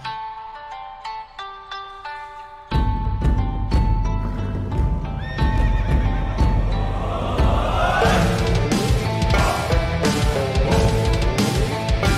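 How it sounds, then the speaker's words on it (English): A horse whinnies repeatedly over a busy, layered Taiwanese folk metal backdrop, with clip-clopping hooves; the calls are loud and close. "Sounds like a horse."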